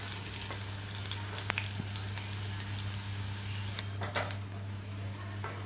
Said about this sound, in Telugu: మంటను మీడియం ఫ్లేమ్లో పెట్టుకొని దోరగా అయ్యేంత వరకు ఒక 15 మినిట్స్ వరకు కలుపుతూ ఫ్రై చేసుకోండి